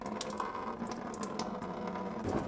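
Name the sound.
coolant draining from a truck's drain petcock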